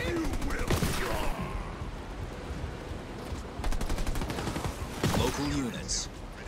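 Dense gunfire in a Halo Wars 2 real-time strategy battle, rapid bursts and volleys layered over constant combat noise, with in-game voices calling out during the action.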